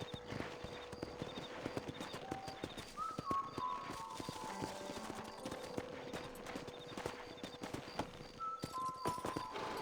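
Steady clip-clop of horse hooves from a rider in Red Dead Redemption, a brisk even rhythm heard up close, with faint in-game tones and ambient game sounds layered over it.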